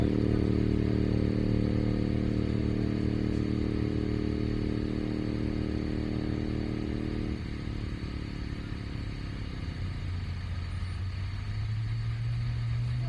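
A 1946 Harley-Davidson Knucklehead motorcycle races on the El Mirage dry lake, a loud steady engine drone that holds, drops in pitch partway through, then climbs again as the bike passes.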